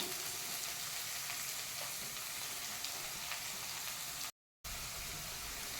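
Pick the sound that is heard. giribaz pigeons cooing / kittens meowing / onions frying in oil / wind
onions frying in oil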